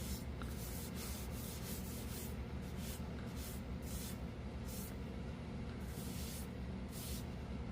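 Another coat of tung oil rubbed into wood by hand, soft rhythmic swishing strokes repeating about once a second over a quiet steady hiss, close and without talk.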